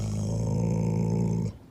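A dog growls in one steady, low, continuous rumble lasting over a second, close and fairly loud, then stops abruptly.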